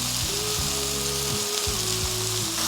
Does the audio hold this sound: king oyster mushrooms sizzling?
yes